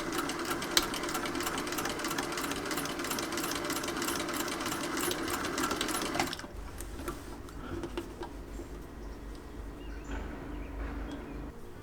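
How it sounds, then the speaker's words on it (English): A sewing machine top stitches a fabric sun hat, its needle running in a fast, steady mechanical ticking rhythm up close, then stopping partway through and leaving quieter handling noises. "you can top stitch it on your sewing machine"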